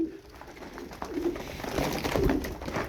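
A crested, honey-coloured male tumbler pigeon coos in soft, low throaty phrases close by, amid faint background rustle.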